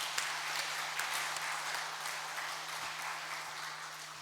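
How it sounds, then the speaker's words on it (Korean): A church congregation at a Sunday service claps together, a steady, even wash of applause that sounds distant and fairly faint, with a low hum underneath. "그냥 열심히 하시라고 박수 한번 쳐주시기 바랍니다."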